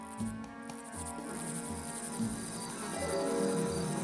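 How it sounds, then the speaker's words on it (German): A dense, steady buzzing and chirring from a swarm of locusts fills the scene continuously, a thick swarm-like drone with faint rhythmic pulses underneath. "Und dann kamen die Heuschrecken"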